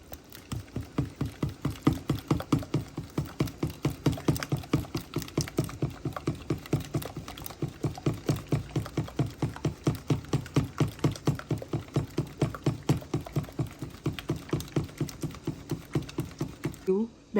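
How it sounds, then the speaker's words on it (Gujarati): Dhokla (idada) batter with a spoonful of oil being whisked briskly in a bowl, a steady rapid rhythm of close, even beats that continues without pause throughout. "હવે એને હું ફીણી કાઢું છું."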